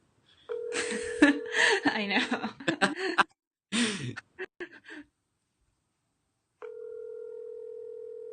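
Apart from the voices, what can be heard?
telephone dialing and dial tone while placing a call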